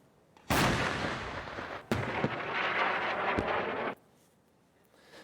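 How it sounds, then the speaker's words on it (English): Heavy artillery and tank fire into the Gaza Strip, a loud sustained roar of blasts that opens abruptly, surges again with a second boom, then cuts off to near silence, with no voices. "artillery and tanks have been firing into the Strip overnight"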